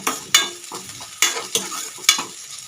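Onions and curry leaves fry in a pan while a spoon stirs them. Sharp scraping strokes come in an irregular rhythm over a soft, steady sizzle, close by with no talking.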